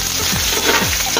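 Chopped ginger hits hot oil in a pan, giving a loud, dense sizzle with crackling splatter and a couple of brief scraping stirs, no voices over it.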